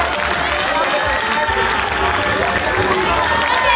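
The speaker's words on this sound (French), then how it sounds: "Applaudissez Madame Diop" Audience at a school excellence dinner applauding steadily, a dense continuous wash of clapping with some cheering throughout, loud and sustained.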